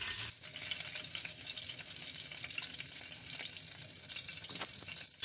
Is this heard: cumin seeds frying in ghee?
yes